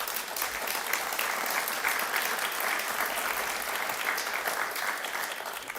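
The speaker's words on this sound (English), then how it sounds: "how about a round of applause for all of our recipients today?" Sustained applause from a crowd at a school district Wall of Fame induction ceremony, steady and dense clapping throughout with no pauses, fairly close and even in loudness.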